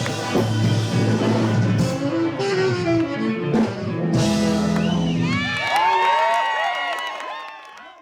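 Loud live blues music at a concert fades into an excited crowd cheering, with whoops and high whistles rising over the noise.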